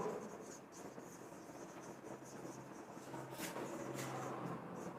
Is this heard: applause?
no